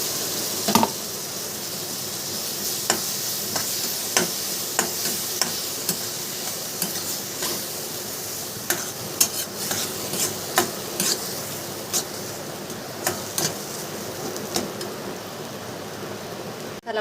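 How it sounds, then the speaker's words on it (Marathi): Ground spice paste (masala) fries in a kadhai with a steady, close sizzle. A stirring spoon scrapes the pan at regular intervals throughout, and no one speaks. "मसाला फ्राय झाला चांगला."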